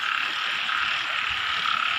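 Frogs croaking on a rainy night in rural Thailand, a dense continuous chorus with steady rain hiss, loud and unbroken throughout with no talk.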